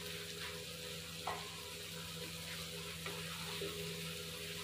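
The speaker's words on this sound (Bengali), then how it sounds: "তো 2 মিনিট কষানোর পরে আমি এখন সবজিগুলো দিয়ে দিচ্ছি" Vegetables sizzle steadily in a hot pan, a soft continuous frying hiss with a few faint stirring clicks, heard alone at low volume.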